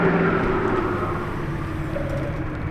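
A silver Lamborghini Temerario passes with a steady low engine rumble and whir at moderate distance, holding a fairly even level with faint bird calls in the background.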